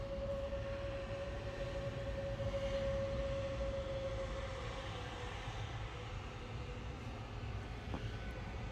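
Lufthansa Airbus A320neo departing Manchester Airport for Munich, a faint, distant, continuous jet rumble with a thin steady tone, holding level throughout with no voices.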